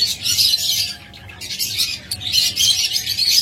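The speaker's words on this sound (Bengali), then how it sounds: "প্রত্যেকটা পাখি এবং প্রত্যেকটা লোকাল ব্রিডের পাখি" Local breed pet birds kept in pairs chirp and squawk in a dense, bright chorus, loud and close, with a brief lull midway before the calling swells again.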